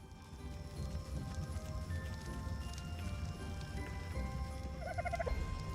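A turkey in a dinosaur survival video game lets out a short, faint gobble near the end, over a constant rain-like patter and low rumble.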